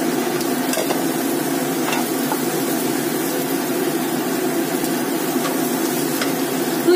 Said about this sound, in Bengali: পেঁয়াজ আর লঙ্কাটা দিয়ে দেবো।